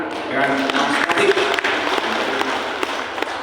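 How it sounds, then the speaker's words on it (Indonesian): An audience at an education department gathering applauds, a busy wash of clapping hands under a fairly close voice that keeps talking over it. "Sekali lagi tepuk tangan untuk Mas Aan dan Mas Katik."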